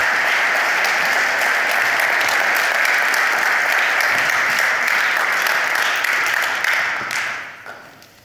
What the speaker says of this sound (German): einen äh, grossen Applaus für Sie